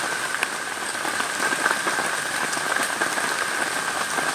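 Heavy rain pours steadily onto a camping tent during a group campout, a dense continuous patter of drops with faint individual taps close by and no voices.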